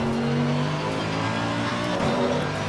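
GT race car, a supercar converted for racing, lapping Imola in the ACC racing game: a steady, loud engine drone with layered harmonic whine that holds throughout, pitch shifting slightly as the car changes revs.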